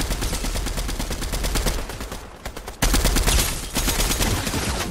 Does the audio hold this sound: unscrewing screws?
no